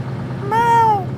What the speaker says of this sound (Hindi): ये क्या है? बीच सड़क पर बिल्ली।